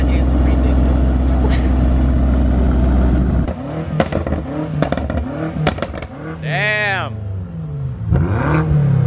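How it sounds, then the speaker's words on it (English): A BMW M5 engine revs and rumbles on a drive, a steady low drone giving way to sharp throttle blips and crackles, with people talking over it in the cabin. "That M5 sounds insane"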